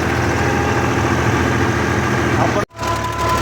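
A farm tractor with a rotavator runs in gear, its engine a loud, steady, low drone close by with one brief dropout near the end.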